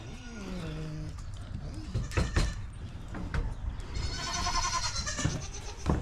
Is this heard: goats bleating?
yes